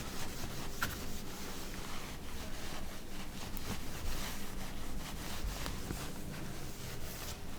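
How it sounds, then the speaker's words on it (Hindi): An eraser rubs written notes off a classroom board during an electrochemistry lesson. The scrubbing is steady and continuous, with rhythmic back-and-forth strokes that run throughout at moderate volume. "सो मैं इसको रब कर दे रहा हूँ।"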